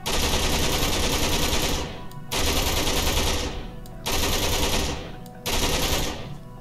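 Rapid automatic fire from an MP submachine gun in a Minecraft gun mod, loud sustained bursts of about two seconds each, separated by brief pauses.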